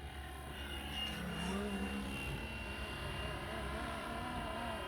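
A Flywing Bell 206 RC helicopter flies steadily nearby, its rotor and motor giving a constant whirring drone with a faint tonal whine, holding even loudness throughout without any talk.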